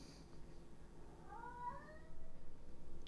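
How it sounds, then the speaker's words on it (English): A cat gives a single drawn-out meow midway, fairly faint and somewhat distant, over a low steady background hum that thickens toward the end. "And the cat is talking."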